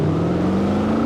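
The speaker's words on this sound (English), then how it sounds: "I love the engine sound" A 2019 Mercedes-AMG GT 63 S 4-door coupe's engine gives a steady, close, droning hum with a strong low tone throughout, without a distinct rise in pitch.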